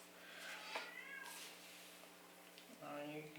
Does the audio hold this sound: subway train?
no